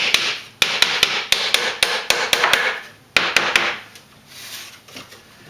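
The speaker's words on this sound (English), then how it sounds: "And a little tap of the hammer here." A series of sharp hammer taps on a wooden frame joint with curved pieces, irregular but quick, close and loud, followed by a brief pause and a few more strikes.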